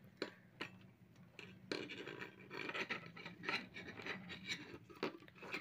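Electrical tape being wrapped around a wire for a two-way switch connection, heard as close, irregular scratchy rubbing and crinkling with a few sharp ticks, with no talk over it.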